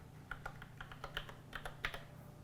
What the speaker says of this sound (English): Now I'll program the keyboard to type Qwerky by pressing Qwerky.